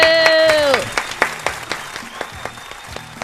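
A studio audience on a hip-hop morning radio show breaks into sharp, rhythmic clapping right after a sustained musical tone cuts off, the claps loud and close.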